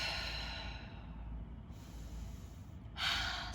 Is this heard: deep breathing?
yes